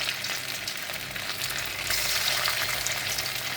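Rice pakoras deep frying in oil, a dense, even crackling sizzle that runs steadily close by with slight swells and no voices over it.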